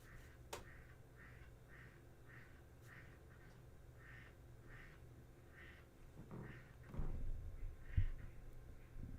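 A duck quacks in a faint, repeated series of short calls under low background noise, with a few louder thumps near the end and no speech.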